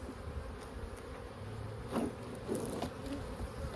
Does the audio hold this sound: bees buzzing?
yes